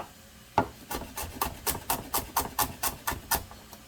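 A kitchen knife chops vegetables on a wooden cutting board while Cajun red beans and rice is prepared, about a dozen sharp, evenly spaced close-up knocks in a steady rhythm with no talking.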